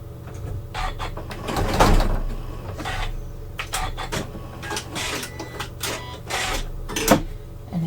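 A Janome sewing machine with a quilt binding set runs in uneven bursts of rapid mechanical stitching, stopping and starting as quilt binding is sewn along a seam.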